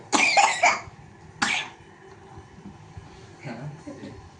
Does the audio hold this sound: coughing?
yes